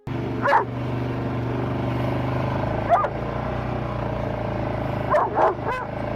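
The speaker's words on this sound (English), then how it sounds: "their dog starts barking and acting anxious" A dog barks anxiously in short bursts in the snow, a single bark, another, then a quick double, over a steady low engine rumble.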